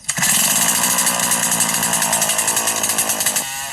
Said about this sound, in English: Under the power of the chainsaw, it takes only a couple of minutes to fell a gigantic tree